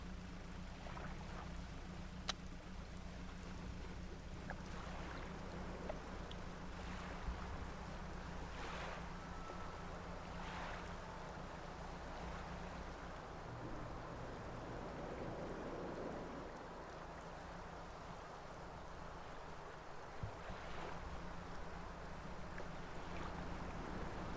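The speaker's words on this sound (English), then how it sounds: "The sound of the engine is really nice. It's comforting. It's just that nice little hum." A small fishing boat's engine in the video game Dredge gives a low, steady hum beneath soft lapping waves and light wind, quiet and continuous, with occasional faint splashes and no speech.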